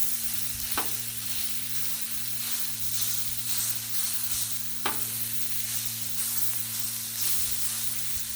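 Chopped beef for stir fry with cauliflower rice browns on a hot griddle, giving a steady loud sizzle and hiss, with a couple of sharp scraping clicks from a spatula.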